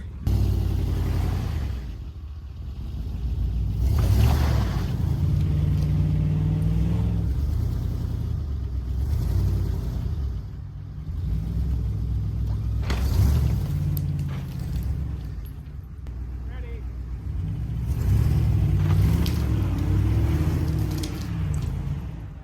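A plow truck stuck off the side of an icy road revs hard again and again while trying to back out, its deep engine rumble surging and easing in repeated cycles, close and loud.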